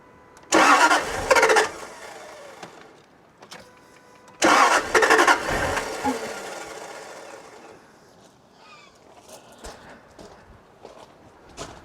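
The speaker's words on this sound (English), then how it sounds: "Did you know the car nearly started as well, with half its injectors disabled?" A Jaguar XK8 engine with half its injectors disabled cranks in two loud bursts with brief sputters, nearly catching, then fades to quieter clicks and rattles.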